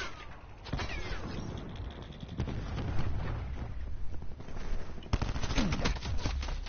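Gunfire in the Black Ops 4 beta video game: bursts of rapid shots crackle over a rumbling background, with sharp clusters of shots near the start and again later, loud and close.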